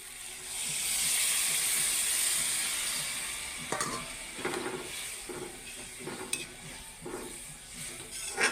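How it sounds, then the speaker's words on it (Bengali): Water poured into pointed gourd frying in a pan for a korma, giving a steady loud sizzle and hiss at first that fades into softer, crackling bubbling with small stirring knocks near the end. "পটলটি এবার হালকা একটু জল দিয়ে দিব"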